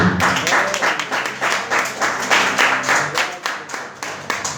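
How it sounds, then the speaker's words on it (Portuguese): Steady, dense applause from a church congregation during a service, many hands clapping continuously with a busy, even texture, fairly loud and sustained throughout. "Pode aplaudir."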